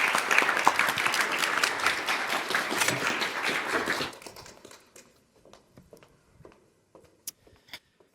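An audience at an AI talk applauds as speaker Johannes Oster is welcomed onstage, with loud, dense clapping that fades after about four seconds into scattered footsteps and light knocks.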